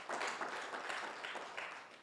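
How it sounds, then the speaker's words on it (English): Audience at a Kenyan investment learning event clapping for themselves: faint, steady, distant applause that fills the whole stretch without a clear break. "Let's clap for ourselves."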